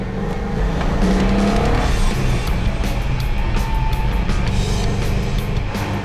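Dodge Super Bee muscle car, a drag-strip racer, with its engine running loud and steady throughout, a continuous low rumble with some rising revs and no talk over it.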